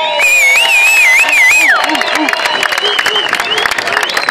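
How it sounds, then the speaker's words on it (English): Crowd at a charity boxing match applauding and cheering both fighters before the bout, a loud dense wash of clapping and shouts, with an announcer's voice and whistling or singing-like tones rising over it at the start. "give both fighters a round of applause"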